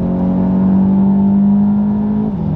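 A 2020 Volkswagen Golf 7 GTI 245 Performance accelerates hard, a steady rising engine drone heard from inside the cabin, loud and continuous, easing off near the end.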